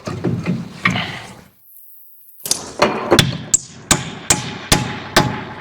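A hammer strikes repeatedly in a steady rhythm, about eight sharp, close blows following a few softer knocks and a short pause.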